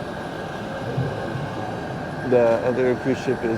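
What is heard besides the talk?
Panama Canal tram locomotive moving alongside ship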